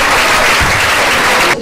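A festival crowd claps loudly for the volunteers, a thick sustained wall of applause that runs evenly and then cuts off abruptly at the end.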